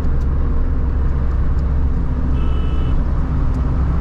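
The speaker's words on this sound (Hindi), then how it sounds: "रोड है और इंजन नॉइज़ है।" Inside a Mahindra Bolero on village roads, a loud, steady low rumble of engine and tyre road noise runs without a break, with no voices over it.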